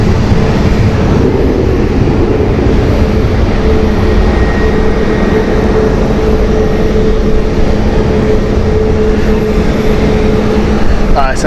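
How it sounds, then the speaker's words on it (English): A Boeing Apache helicopter at Amsterdam Schiphol Airport produces a steady, loud rotor and engine roar that fills the whole stretch without letup, with people talking faintly under it. "The Apache. Boeing Apache."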